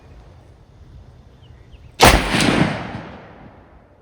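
A single sharp, loud gunshot from a Ruger American Compact .308 rifle cracks out, followed by a booming echo that rolls away and fades over a couple of seconds.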